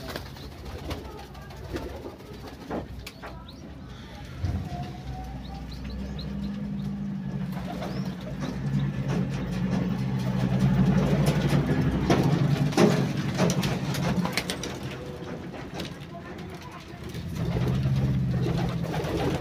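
Pigeons scuffle outdoors with low cooing, wing flaps and scattered chirps over a busy background hum, and a person talks faintly now and then.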